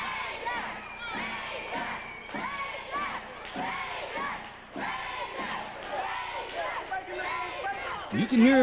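Crowd at an independent wrestling show cheering and chanting in rhythmic, repeated swells behind a wrestler, loud and close, with a commentator's voice riding over the noise toward the end.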